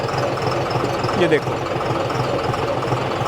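A John Deere tractor runs in second gear on a dirt road, its engine a steady, rumbling drone throughout, while someone speaks briefly over it near the middle.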